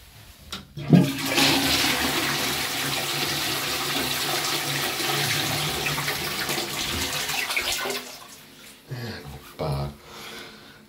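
A Barrhead toilet pan in a pub flushes with a loud rush of water that surges at once, holds steady for several seconds, then trails off into gurgles and a refilling trickle, with a voice speaking briefly.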